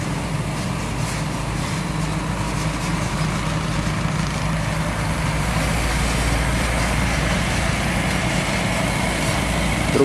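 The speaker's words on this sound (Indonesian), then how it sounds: "Truk doli teman-teman, bawa eskavator." A heavy lowboy truck engine hauling an excavator drones steadily and continuously at close range, with a constant low rumble and no pauses.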